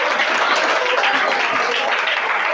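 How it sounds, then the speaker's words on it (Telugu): Audience applause at a book inauguration and distribution event held at a government school in Vanasthalipuram, a steady, dense wash of many hands clapping continuously from start to finish. "ఒక్కసారి డాక్టర్ నాదెండ్ల రామకృష్ణ గారికి మనము క్లాప్స్ కొడదాం"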